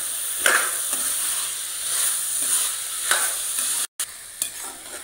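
Potato and green bean sabzi is stirred in a hot pan, giving a steady sizzle with repeated scraping sweeps of the spoon, one brief dropout partway through, and no voices.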